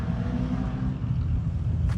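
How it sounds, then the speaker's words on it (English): Engines from an autocross course at a hot rod car show, a low continuous rumble heard at a distance with wind across the microphone. "if you hear the engines in the background, they've got an Autocross set up"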